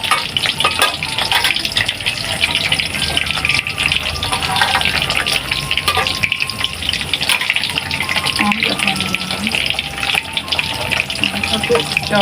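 Hot oil crackles and spatters steadily in a pan on a home kitchen stove after salt goes in, a dense, loud, continuous frying hiss with faint talk underneath.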